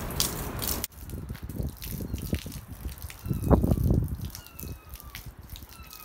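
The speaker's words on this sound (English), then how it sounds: "an asshole in his bathrobe emptying a chemical toilet into my sewer" Liquid waste from a full chemical toilet poured into a street sewer drain on a cold holiday morning, heard as a steady gushing splash with drips and sloshing, fairly close, with no talk.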